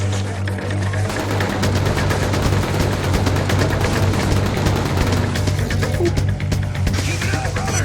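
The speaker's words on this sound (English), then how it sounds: "Dude, they got fucking machine guns." Sustained machine gun fire in the Infamous video game, dense rapid bursts of automatic shots rattling continuously and loudly with a low hum beneath, no clear pause throughout.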